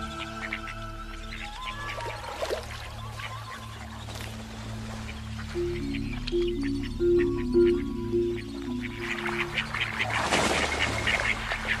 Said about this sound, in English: The salties wallow, showing only half-hearted interest in the squawking fowl.